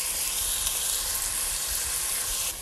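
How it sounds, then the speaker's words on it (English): Chopped onion sautéing in hot oil in a pan, a steady, close, bright sizzle and hiss that stays even throughout and drops slightly at the very end. "I'm going to saute the onion until it's nice and soft"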